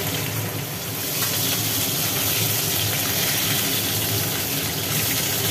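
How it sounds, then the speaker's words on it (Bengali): Bata fish fry in hot oil in a pan, producing a dense, unbroken sizzling hiss that stays loud and close throughout, with no voices. "এখন মাছ ভাজা চলছে, মাছগুলো ভাজা হোক।"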